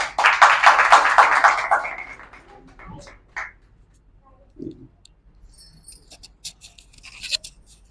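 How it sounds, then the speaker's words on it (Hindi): A crowd claps loudly for a senior colleague in a brief burst of dense applause that dies away after about two seconds, followed by scattered clicks and quiet talk. "हमारे सीनियर के लिए जोरदार ताली हो जाए"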